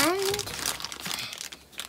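Plastic wrapping on a Rollei Actioncam 4s Plus crinkles and crackles in close, brief bursts during unboxing, partly under a person talking.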